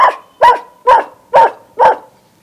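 A voice mimics a medium-sized dog barking, five sharp, evenly spaced barks close to the listener with short silent gaps between them and no other sound.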